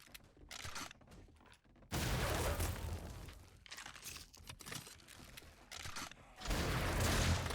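Gunshots in 7 Days To Die crack out during a horde night: loud, dense bursts of firing come in two long stretches with quieter gaps of crunching and clatter between them.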